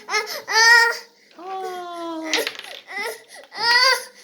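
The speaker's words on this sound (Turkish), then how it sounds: "neden ağlıyorsun şu an?" A young child cries in wailing, sobbing bursts with pitched whimpers between, loud and close, during a home Lego train-building session.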